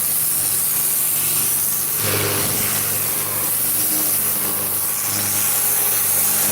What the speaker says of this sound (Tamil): இப்போ வெறும் மூவாயிரம் ஆர்பிஎம்லாம் ஓடிக்கிட்டு இருக்கு மிஷினு